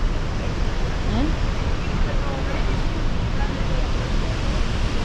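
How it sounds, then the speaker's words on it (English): Rhine Falls waterfall in Switzerland heard from a boat close to the falls, a loud, dense, unbroken roar of rushing water mixed with wind buffeting, with faint voices under it. "take a boat ride across the Rhine Falls, which takes you very near to the falls."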